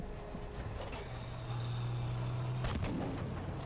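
A Tiger tank's cannon fires in Battlefield: a sharp, loud blast near the end follows several seconds of grinding, creaking track and engine machinery with a low droning tone, without voices.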